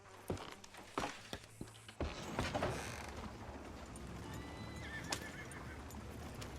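Horses in Red Dead Redemption 2 clip-clop on hooves as they are ridden, with a loud whinny partway through, over a steady outdoor bed of hoofbeats and tack.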